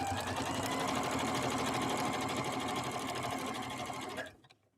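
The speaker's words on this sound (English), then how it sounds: "I'm going to speed this machine up a little bit so you can get an idea of that." Janome Skyline S5 sewing machine stitching a three-point zigzag at higher speed, giving a fast, continuous, close mechanical whirr that runs steadily before stopping abruptly near the end.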